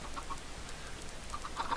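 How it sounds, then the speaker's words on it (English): Chickens in Minecraft give faint, short clucks, a few scattered at the start and a quicker cluster at the end, with no talk over them. "Oh god, more chickens."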